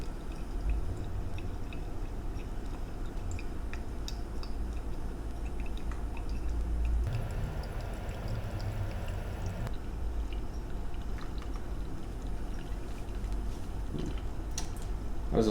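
Hot water poured slowly over ground coffee in a Kalita Wave pour-over dripper, a steady close trickle running throughout with faint drips and small clinks, no talk.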